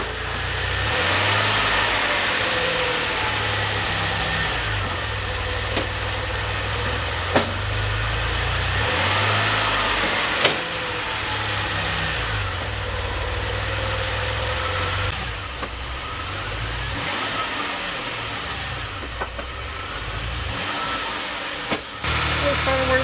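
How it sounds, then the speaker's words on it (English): A DeLorean's mid-pitched engine idles steadily and close by, with a few sharp clicks and small shifts in tone partway through, while someone talks over it. "That's kind of where the idle wants to be."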